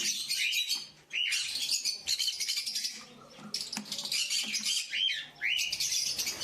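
Many small kept birds being separated chirp and squawk loudly nearby, a busy overlapping chatter of quick calls with brief lulls.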